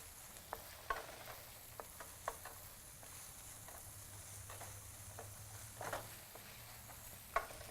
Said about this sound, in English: And let's just stir this all around.